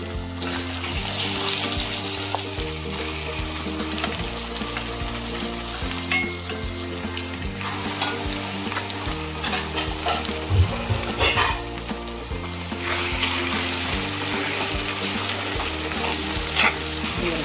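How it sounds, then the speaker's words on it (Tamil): Gongura sorrel leaves frying in oil while being stirred constantly, a loud continuous sizzle with scraping stir strokes, close and steady with no talk. "சிம்லேயே வச்சு வதக்கிட்டு கை விடாமல் கிளறிட்டே இருக்கும்"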